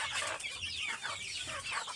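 Native free-range chickens cluck busily at feeding time, a close, continuous chorus of overlapping clucks and squawks from several hens.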